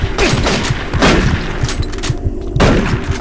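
Gunshots ring out in Doom 3 as a series of loud, punchy blasts with booming tails, with several close shots and heavy thuds in quick succession.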